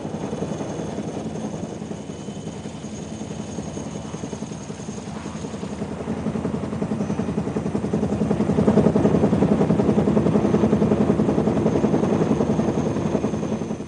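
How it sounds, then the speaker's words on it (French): A Bell YH-40 helicopter lifts an L-19 airplane weighing just under a tonne as an external load, its steady rotor thump and turbine roar filling the scene and swelling louder partway through. "le YH-40 soulève sans problème un avion L-19 qui pèse un peu moins d'1 tonne"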